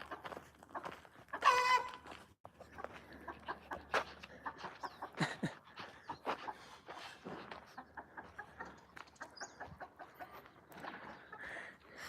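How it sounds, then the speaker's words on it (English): Chickens cluck and squawk around a farmyard with roosters about, a busy scatter of short calls near and far, with a louder burst early on and no talk. "I hear the chickens."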